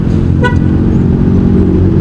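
Evening road traffic rumbles steadily and loudly throughout, with one short car horn toot sounding near the start.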